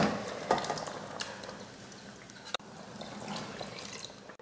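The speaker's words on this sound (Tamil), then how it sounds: "சாம்பாருக்கு தேவையான தண்ணியெல்லாம் சேர்த்தாச்சு." Water poured into a pot of sambar with cooked brinjal and dal, a soft splashing pour with a few louder splashes and a clink, fairly close and without talk.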